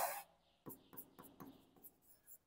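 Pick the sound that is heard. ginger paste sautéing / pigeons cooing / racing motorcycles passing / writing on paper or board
writing on paper or board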